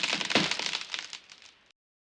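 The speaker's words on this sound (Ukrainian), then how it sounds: "Але гілка виявилася тонкою і раптом трісь вона зламалася" A thin tree branch cracks and breaks in a brief, crisp splintering crackle that fades out after about a second and a half, then silence.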